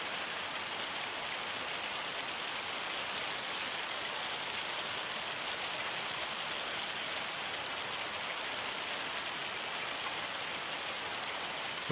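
Rain falling in the Farming Simulator video game, a dense, even hiss of drops on surfaces that holds steady and alone throughout.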